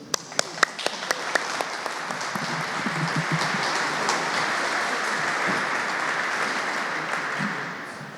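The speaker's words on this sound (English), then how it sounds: "One more round of applause, please." Conference audience at an opening keynote session applauding, starting with scattered sharp claps that swell into steady, full applause across the room, then tapering slightly.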